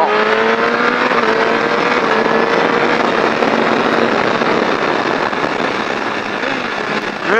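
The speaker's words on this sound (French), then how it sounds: "On accélère en grand." Triumph Daytona 675 motorcycle accelerating hard on a race track at La Ferté-Gaucher, a loud, continuous engine roar with rising pitch sweeps held close throughout, the note climbing steadily through the gears.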